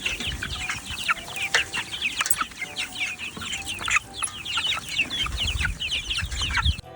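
Chickens clucking on a farm, a busy, continuous chorus of overlapping clucks and squawks from several birds, close and fairly loud, with a crow-like call rising among them.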